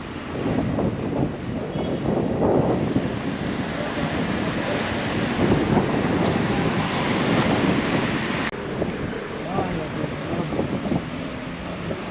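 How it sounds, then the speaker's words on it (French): Strong, cold wind in Constantine, Algeria, roars steadily into the microphone, buffeting it with a broad rushing noise that barely lets up. "Ah, le vent."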